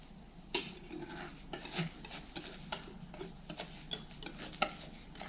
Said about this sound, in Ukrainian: І так, опара з яйцями у нас перемішана